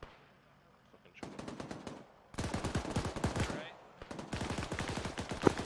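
Rapid bursts of automatic gunfire in a platoon training breach, close and loud. Three clusters of sharp, quick shots are separated by brief pauses, with faint voices in between.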